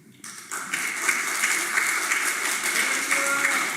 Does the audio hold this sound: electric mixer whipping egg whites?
no